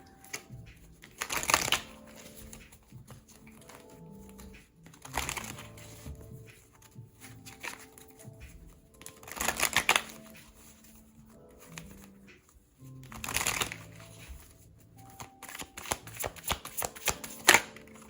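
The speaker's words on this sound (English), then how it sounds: "let's get a few cards from my deck" A deck of cards is shuffled in several separate close bursts of crisp riffling and flicking, with quieter handling pauses between them and no talk.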